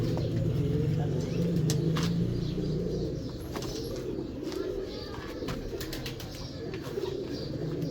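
A Gutt breed pigeon coos low and throaty in a loft, a steady rolling murmur close by, with other birds chirping faintly and a distant car in the background.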